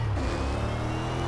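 A car engine in the Gmod Simfphys driving game drones steadily under turbo boost, a smooth, continuous mechanical hum with a faint rising whine, heard alone for a brief moment.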